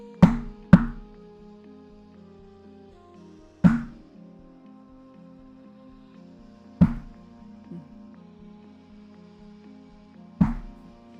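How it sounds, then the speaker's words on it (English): Knocking on a door plays as a sound effect in an adventure game, sounding as five sharp separate knocks spread across the stretch, with a quick double knock first, all clear over a low steady ambient hum. "There's a faint knock at the door."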